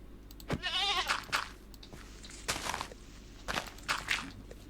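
Goats bleat in the Minecraft video game, a few short nasal cries spread over a few seconds, fairly quiet against a low background hum.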